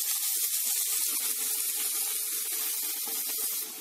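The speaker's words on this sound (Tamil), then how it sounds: "பெரிய வெங்காயம் சேர்த்திக்கலாம். இது கொஞ்ச நேரம் வதங்கட்டும்." Sliced big onions sizzle steadily in hot oil with fennel seeds and curry leaves in a pan, a continuous close hiss of frying for a chicken samosa filling, with no talk.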